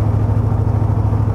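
Wildcat Land Rover Defender 110 with a 600HP V8, its engine and exhaust giving a loud, close, steady low rumble with a slight pulsing throb, no talk over it.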